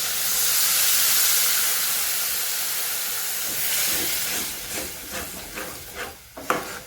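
Water from boiled moth beans is poured into a hot pan of roasted masala and erupts in a loud, bright steam hiss that slowly fades into bubbling and spoon scrapes.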